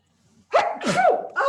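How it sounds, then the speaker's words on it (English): A single sharp sneeze bursts out close by after a faint breath, followed by a second short sneeze-like exhale. "That's my morning sneezes."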